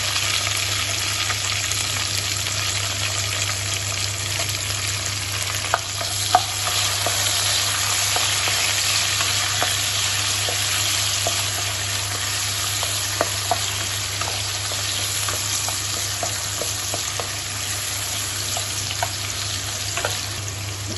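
Ginger-garlic paste and chopped tomato frying in hot oil for a Bengali fish curry, a steady loud sizzle with occasional faint clicks of stirring, no voices.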